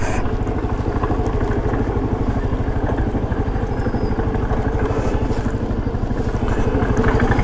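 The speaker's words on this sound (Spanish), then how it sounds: "Yo creo que el ruido viene de aquí, del embrague" A motorcycle idles steadily nearby, with a fast, even mechanical clatter from the clutch running through the engine throb.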